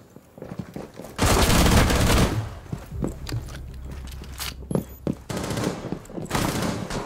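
Rapid automatic gunfire from a Rainbow Six Siege match, a loud sustained burst near the start followed by scattered shots and shorter bursts of fire through the rest of the clip.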